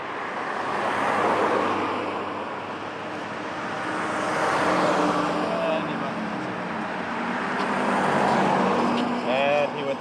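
A car passes on a road in the Greek city of Kastoria, its broad roadway rumble swelling and fading twice at moderate distance under continuous background noise.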